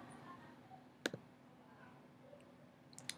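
A faint computer mouse click while creating a Blackboard announcement: a pair of quick close clicks near the start, then a couple of softer ticks at the end over quiet room hiss.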